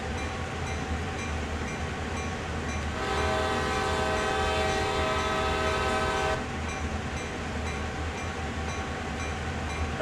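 A CSX GP38-2 diesel locomotive in Train Sim World sounds its horn at night in one long sustained blast lasting several seconds, loud and close over the steady engine and rail rumble.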